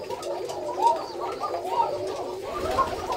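Black Koka pigeons coo continuously with soft, overlapping, throaty calls, close and steady throughout, with no talking.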